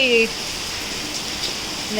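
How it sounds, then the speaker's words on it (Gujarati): Steady rain accompanied by strong wind hisses evenly throughout, with a brief tonal whine at the start; no distinct gusts stand out. "વરસાદ સાથે પવન આવી રહ્યો છે"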